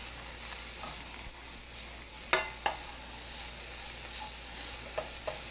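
A small pinch of spice stirred through a hot pan while food cooks for a red bean curry, with a soft steady sizzle and a few sharp scrape clicks from the spoon.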